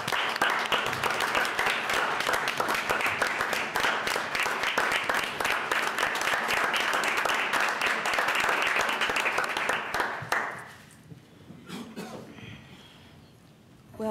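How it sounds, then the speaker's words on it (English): A room at a board of commissioners meeting applauds a visiting state delegation, with dense, sustained clapping for about ten seconds, then fading to a few scattered claps and quiet room noise. "if you could just stand so we could just give you a round of applause"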